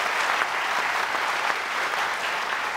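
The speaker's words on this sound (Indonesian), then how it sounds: "Sekali lagi tepuk tangan dong untuk yang sebelah kiri" Steady, dense applause from a studio audience on the Mata Najwa political talk show, loud and continuous throughout with no break.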